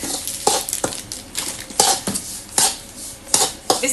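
Semolina being dry-roasted and stirred in a clay pot, with a spoon scraping and clinking against the pot in repeated sharp strokes about every half second over a soft background sizzle, close and clear with no talking.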